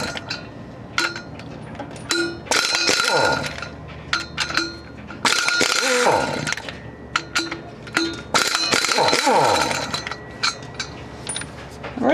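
Impact gun on the torque converter bolts of a Ford Explorer: several loud, rattling bursts with metallic clanks between them, each separated by brief pauses.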